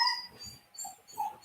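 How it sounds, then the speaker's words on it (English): A dog whimpers and yips a few times nearby, short high-pitched cries spaced unevenly over a quiet background, with no speech. "Oh, do you hear this dog?"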